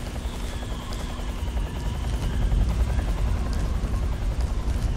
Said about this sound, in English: The chopper is very close to us. I can hear it.